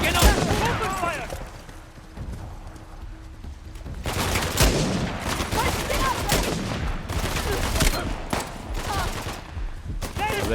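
Heavy gunfire in the video game Uncharted: The Lost Legacy, dense overlapping rifle bursts and impacts rattling almost continuously, with voices talking over the shooting.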